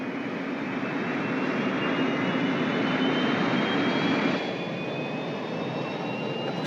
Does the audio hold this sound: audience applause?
no